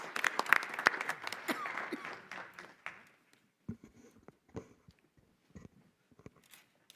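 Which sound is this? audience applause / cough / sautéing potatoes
audience applause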